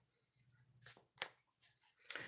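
A deck of oracle cards is given a single brief shuffle, a few close, soft papery flicks and snaps in quick succession, quiet and alone.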